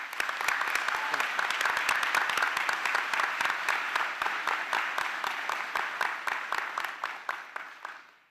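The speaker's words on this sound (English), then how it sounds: "with a round of applause for all of his efforts" Audience applause at a 2017 high school graduation ceremony for Northwest Pennsylvania Collegiate Academy, a steady wash of many hands clapping that holds for about eight seconds before tapering off at the end.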